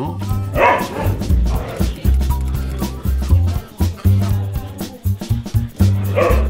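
Several dogs at an animal shelter bark and yip repeatedly, close and loud, in an irregular overlapping chorus with occasional whimpers, and people speak faintly underneath.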